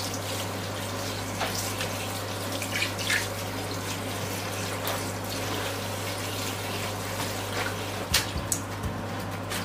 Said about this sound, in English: So I'm going to be washing that with cold water.